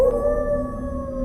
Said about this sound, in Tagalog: may umalulong na aso sa tapat ng bahay namin